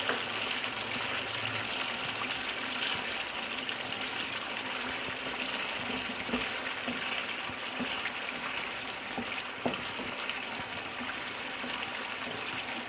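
Kaleji (liver) fries in ghee with green chillies and garam masala, giving off a steady, even sizzle throughout with no talk.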